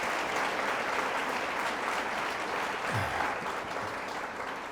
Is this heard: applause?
yes